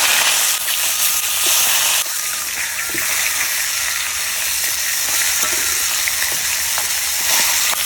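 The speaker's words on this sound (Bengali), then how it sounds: "মাছের মাথা ভাজা হয়ে গেছে আর নামাই নেব" A fish head coated in turmeric and salt fries in a wok with a loud, dense, steady sizzle and crackle, stirred now and then, with no voices.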